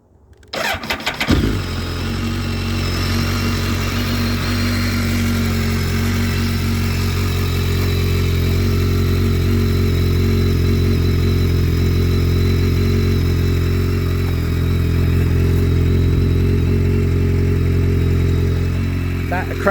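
A BMW K1300S Motorsport edition motorcycle with an Akrapovic exhaust fires up after a brief moment, then runs at a steady, throaty idle close by for the rest of the clip, loud and continuous.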